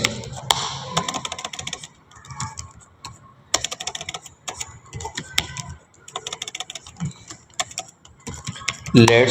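Computer keyboard typing in quick irregular bursts of clicks, moderately close, running under intermittent talking.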